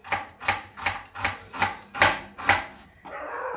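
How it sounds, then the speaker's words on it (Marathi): A knife chops an onion on a board in seven even, steady strokes, close and distinct, followed by a softer rustle at the end. "आता अगोदर कांदा कट करून घेते"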